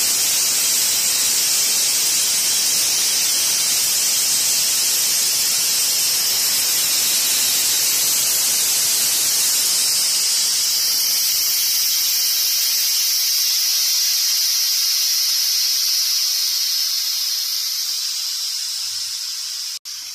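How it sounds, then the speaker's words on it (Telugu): Steam hisses loudly and steadily from a pressure cooker as its pressure is released after one whistle while cooking bhindi fry, the rushing broadband hiss holding for about twelve seconds before thinning and tapering off toward silence. "స్టవ్ ఆఫ్ వేసుకొని ప్రెషర్ రిలీజ్ చేసాను."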